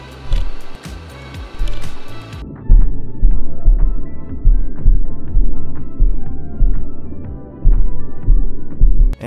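A robot vacuum's hard plastic caster wheel clatters in repeated rhythmic knocks over bumps, close and loud under the steady whir of the motor and brushes, with the hum thinning partway through.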